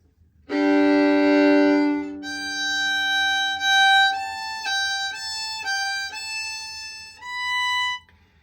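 A solo fiddle plays a short phrase from the B part of the tune "Lost Girl": a long bowed opening note, then a run of quicker notes and a held close, heard up close without talk.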